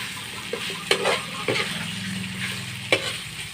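Mung beans being stirred and ingredients added in a pot, a steady sizzle under a few clinks and scrapes of a utensil against the pan, close by, with no talking.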